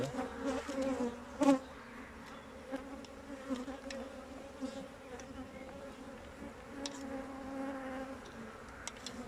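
Honey bees buzz in a continuous low drone while a hive is opened for a March inspection in Sakarya, with faint handling knocks and clicks scattered over the soft hum.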